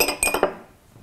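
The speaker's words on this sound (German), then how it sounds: "Dürfen Sie die Gläser mal nebeneinander stellen?" Drinking glasses set down next to each other on a table, three or four quick bright clinks in a row, close and clear, then ringing out into quiet.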